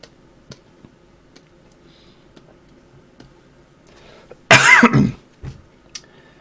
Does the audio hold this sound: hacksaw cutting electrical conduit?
no